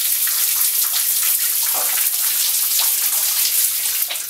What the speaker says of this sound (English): Nice to have a shower when you're in the outback.